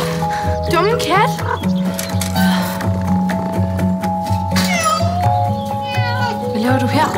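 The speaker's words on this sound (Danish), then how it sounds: "Hey! Dumme kat!" A cat meows repeatedly in rising, strained calls over a steady musical and ambient background, loud and close, with people talking in between.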